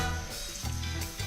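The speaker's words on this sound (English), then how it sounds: "Our onions and garlic are sizzling behind me." Onions and garlic sizzle in a pan as a short burst of crackling frying noise, close and steady, with a low hum running underneath.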